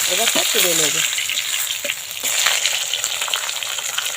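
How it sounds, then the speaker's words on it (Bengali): Pangas fish pieces fry in hot oil with a loud, continuous crackling sizzle and occasional stirring bursts, while a brief voice is heard early on. "সবগুলো উল্টে পাল্টে খুব ভালো করে ভেজে নেবো"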